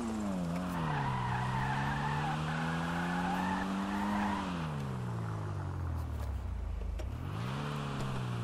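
A Maxwell Asbo hatchback in GTA Online drives and skids, its engine droning and shifting pitch while long tire squeals sweep across, ending in a deep swoop as the revs drop and climb again.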